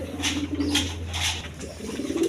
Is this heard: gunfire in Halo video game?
no